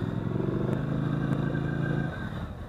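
Vehicle engine in low gear with light throttle, a steady close rumbling drone with a buzzy harmonic tone that drops off near the end, with no talk.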